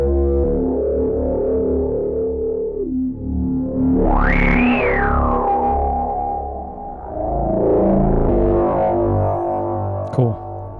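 A synthesizer bass with effects and distortion plays sustained buzzy tones, sliding down, then sweeping sharply up into a filtered peak before settling into a thick droning pitch, loud and alone without talk.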